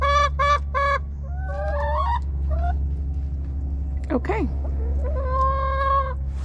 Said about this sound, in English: I think this is the alpha chicken. She's very defensive.